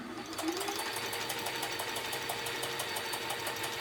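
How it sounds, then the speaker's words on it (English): Janome Combi serger running steadily up close, its cutting blade trimming a fabric edge, with a fast, even mechanical chatter and no one speaking. "you can see the cutting blade here is trimming the edge of the fabric here."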